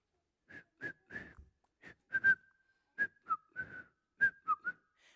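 A person whistles a cheerful tune in a staged musical tale, with short bright notes and a few held tones, clear and close against silence.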